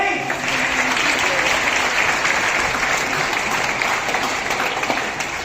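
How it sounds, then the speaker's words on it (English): A crowd gives Keith a big round of applause, a loud, steady wash of many hands clapping that holds evenly throughout without pause. "Big round of applause for Keith"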